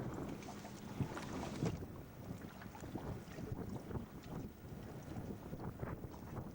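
Wind sweeps across a fishing boat on Mona Lake as lines are cast, giving a faint, steady low rumble with gusty microphone buffeting and no other clear sounds.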